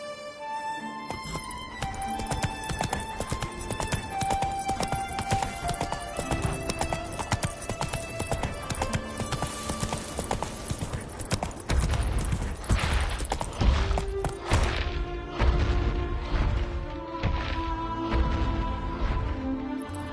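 Roach, a horse in The Witcher 3, gallops with a fast, continuous clip-clop of hooves under layered game music, growing heavier and louder in the second half, with no speech.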